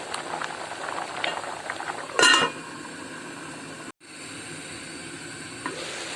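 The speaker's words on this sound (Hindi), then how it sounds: "ये देखिए चावल बड़े अच्छे तरीके से पक रहे हैं।" Rice and chickpeas boil steadily in a pot of pulao with green chillies added, a soft continuous bubbling and simmer with a brief louder clatter partway through and no talking.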